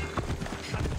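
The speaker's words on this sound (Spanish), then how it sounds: "Que me ha dado un caballo la tía" Horse hooves clop on the ground in the Assassin's Creed Odyssey video game, a quick, fairly faint clatter of beats over dense game ambience.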